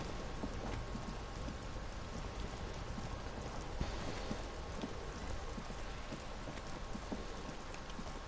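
Steady rain in the video game Disco Elysium patters densely and evenly, a soft continuous hiss with scattered drops throughout, during a traffic jam.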